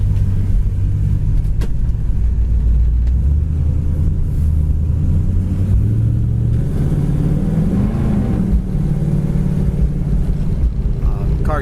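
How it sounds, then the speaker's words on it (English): A 1967 Chevrolet Chevelle Super Sport with a frame-off restoration drives along, its engine a steady loud low rumble that shifts pitch as the automatic transmission kicks down, heard from inside the car. "Car downshifts, kick down works good."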